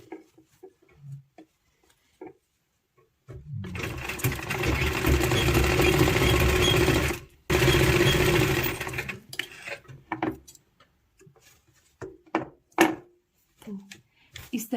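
A sewing machine stitches the top and bottom of a toddler's party dress together in one long, steady whirring run of a few seconds with a short break, followed by softer handling sounds and clicks as the fabric is moved.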